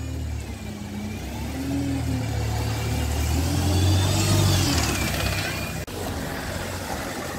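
British bus on a Nottingham line pulling away from a stop on Central Avenue, West Bridgford, its engine rumbling and revving up steadily over several seconds, close and loud, then easing off as it moves away.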